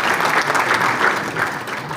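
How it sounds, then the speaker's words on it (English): A crowd claps steadily, dense broadband applause sustained throughout at a fairly loud level. "Please, a round of applause."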